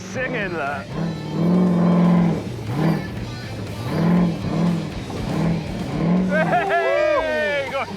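A junk scrap car races fast over an off-road course during a scrapyard race, its engine revving loudly and surging up and down in repeated pulls close by. People talk and shout over the engine noise.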